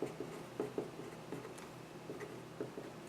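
A pen sketching a graph on paper, faint scratchy strokes with small ticking taps at an irregular pace, quiet and close, with no voices.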